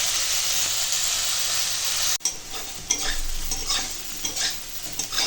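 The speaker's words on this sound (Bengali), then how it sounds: "মাছের মতো এপিট পিট ভেজে নেবো শুধু" Loud steady sizzling of elephant foot yam slices frying in hot oil, which abruptly drops to a quieter crackle with small pops and bubbling, close by.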